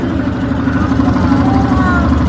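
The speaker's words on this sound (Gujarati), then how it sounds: "બીજી બોટ બાજુમાંથી જઈ રહી છે." A boat engine drones steadily nearby on the river at Kashi as another boat passes alongside, a continuous mid-pitched hum with faint voices.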